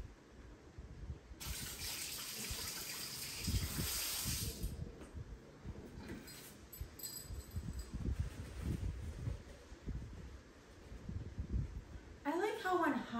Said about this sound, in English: Just gonna rinse this.